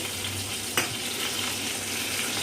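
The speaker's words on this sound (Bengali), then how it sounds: "এবার ফ্লেমটা হাই করে তরকারিটাকে একটু নেড়ে নেব।" Vegetable curry with greens and a fried hilsa fish head is stirred in a wok over high flame, giving a steady close sizzle with one sharp scrape of the spatula partway through.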